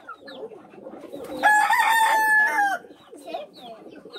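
A rooster on a country farm gives one loud, drawn-out crow close by, with softer clucking and scattered bird calls before and after.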